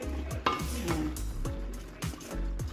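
Beef and cabbage stirred with a utensil in a frying pan, giving repeated scraping and clinking strokes over a soft sizzle, close and fairly quiet.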